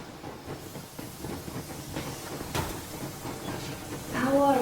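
The steam train Yermak in the video game Metro Exodus rolls along with a rumbling, hissing roar and faint rhythmic clatter. A rising whistle-like tone sounds near the end.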